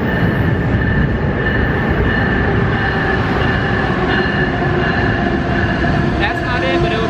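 A train rolls steadily through a station platform, a continuous loud rumble with wheel noise and faint high squeals, with people talking faintly underneath.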